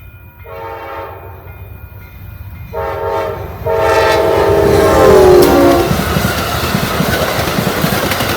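Amtrak Downeaster train led by a P42 locomotive sounds a loud, close horn in three blasts, the last one long, and then the train rumbles steadily past a grade crossing with wheel clatter.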